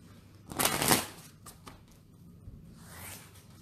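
Tarot cards being shuffled and picked by hand, one short papery riffling burst close up, then quiet faint handling in a still room.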